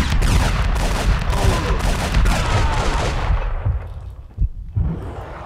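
Rapid gunfire from the video game Max Payne 2 The Fall of Max Payne, loud bursts of automatic shots and booms that thin out into a few separate blasts near the end.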